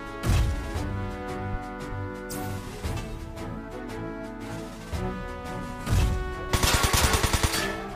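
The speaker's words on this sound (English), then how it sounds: "at least dodge rifle shots?" Rifle fire in the PS2 game Front Mission 4 rings out as scattered loud shots amid game music, with a quick rapid burst near the end, no voices.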